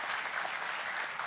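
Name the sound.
conference audience applause for panellists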